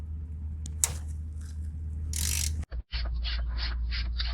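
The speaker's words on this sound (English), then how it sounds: "it is a 19mm socket. We're gonna go ahead and unloosen it." A ratchet with a 19mm socket loosens the oil drain plug on a 2012 Volkswagen Jetta, a close run of quick mechanical clicks over a steady low hum.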